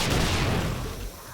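A grenade in 7 Days To Die bursts in a loud, close explosion that rumbles and decays over about a second, with no talk over it.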